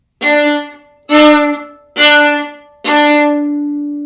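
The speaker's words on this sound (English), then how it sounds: "accented quarter notes will sound like this." A viola plays four separate accented quarter notes on one pitch, each starting with a strong attack and tapering off quickly, with short silences between.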